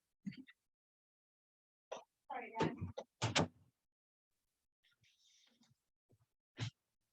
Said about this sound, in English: Hang on, let me close my door.